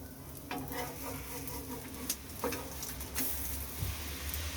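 A cheese bread omelette sizzles gently in a pan just after being flipped, a low continuous frying hiss with a few soft taps and scrapes of a spatula, fairly quiet and with no talk.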